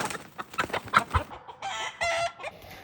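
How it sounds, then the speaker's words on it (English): A chicken clucks and squawks as someone catches it outdoors: quick bursts of agitated clucks, then two longer, louder drawn-out squawks near the end, close to the listener. "First, we gotta catch a chicken."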